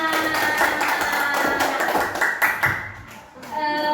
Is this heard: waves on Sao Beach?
no